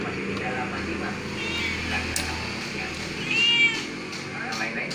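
A pregnant cat searching for food gives a couple of drawn-out meows, close by, while people talk nearby.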